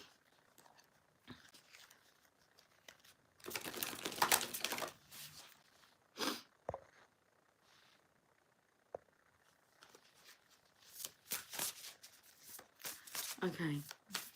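Thoth tarot cards are shuffled in several bursts of crisp riffling and flapping, with quieter handling between and a voice speaking briefly toward the end.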